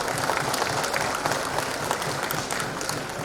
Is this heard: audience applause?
yes